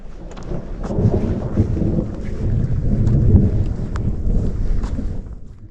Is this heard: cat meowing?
no